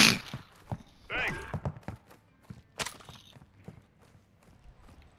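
Horse hooves in a video game, a run of hollow clip-clop thuds and scuffs near the start followed by sparser knocks, heard under and between players' overlapping talk.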